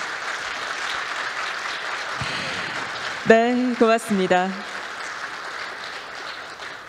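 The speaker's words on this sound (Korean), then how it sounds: "여러분 큰 박수 부탁드리겠습니다." Applause rises from the audience at KAIST's 50th anniversary ceremony, a sustained crackle of clapping heard first alone, then easing under a voice.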